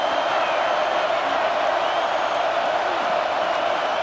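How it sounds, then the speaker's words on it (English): Stadium crowd roaring in a college football video game, Oklahoma at Texas A&M, a dense, loud and continuous wash of cheering noise with no breaks. "This crowd looking for a big 4th down stop."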